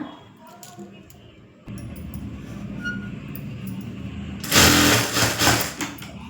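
A tailoring sewing machine stitching a hem strip, its needle running in short bursts that get louder and brighter toward the end, with a voice talking over it.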